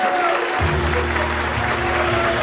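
Applause from an audience at a retirement dinner, a steady wash of clapping that fills the room after a brief pause, with a low hum running underneath.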